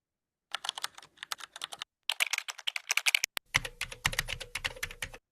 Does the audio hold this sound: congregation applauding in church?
no